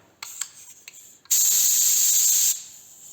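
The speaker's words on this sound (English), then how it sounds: "see if I can get this set up to spray" A paint spray gun on a Studebaker restoration gives a few short hissing puffs, then one sustained, loud spray hiss lasting over a second before it cuts off abruptly.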